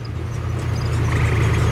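A jeep on a safari drives along with a steady low engine rumble, fairly loud and continuous, and a faint whir rises near the end, with no talk.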